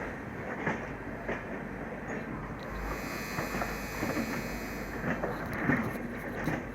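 The Ballia Clone Special Humsafar Express (04056) runs on rails with a steady rolling rumble, faint rhythmic wheel clicks and rattling carriage noise heard from on board at a moderate, even level.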